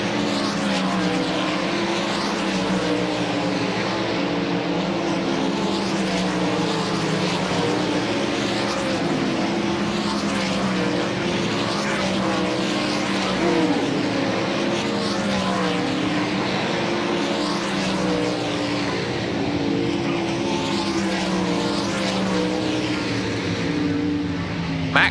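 Dirt track race cars from the DIRTcar Nationals at Volusia Speedway Park, on a hot lap session, roar steadily throughout, with engine drone rising and falling as the cars circle the track at a constant loud level.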